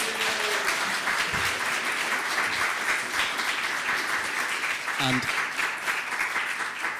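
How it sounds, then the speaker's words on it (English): Applause from a meetup audience fills the room as a steady, moderately loud wash of clapping, with a voice speaking briefly partway through. "can I have a round of applause, please, for Chris?"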